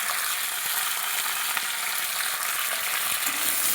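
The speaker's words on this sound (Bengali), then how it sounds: "এবার আমি সিমগুলো একটু নাড়াচাড়া করে দেবো এরকম এরকম করে" Flat beans are stirred in a hot pan, giving a steady, loud sizzle with faint scraping throughout and no voices.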